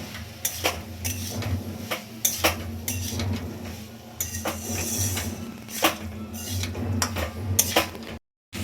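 Metal utensil scraping and clinking in a pan as fried vegetables are stirred with spices for a mixed-vegetable dal, repeated sharp taps over a steady low cooking hum, close and fairly loud.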